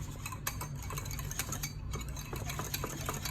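Flourless low-carb chocolate cake batter being stirred in a bowl, a steady scraping and clinking of utensil against the bowl with scattered sharp ticks over a low background hum.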